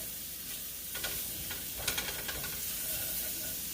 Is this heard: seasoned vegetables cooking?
yes